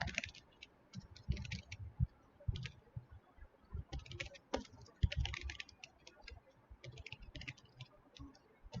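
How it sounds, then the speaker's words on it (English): Rapid, uneven clicking of laptop keys typed in short bursts, close and fairly quiet, with brief pauses between runs. "if you hear the keyboard sound that when I type"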